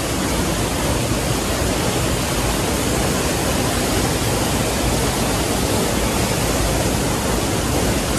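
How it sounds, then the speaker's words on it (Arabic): Loud waterfall pouring into a swimming pool in Bursa, a dense, steady, full-band roar of rushing water, close and unbroken, with no voices. "الميه، الصوت عالي قوي."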